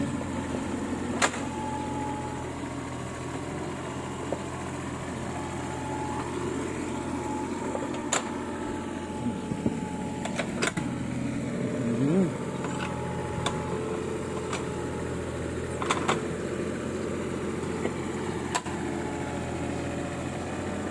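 A Kubota mini excavator with a three-cylinder diesel engine runs steadily while leveling soil, its low engine drone continuous and moderately near, with occasional sharp clicks and clanks of the bucket and hydraulics; no voices.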